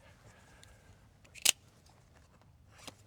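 A single sharp snip cuts tape or protective covering during a DIY mini split line set install outdoors, followed by a fainter second snip.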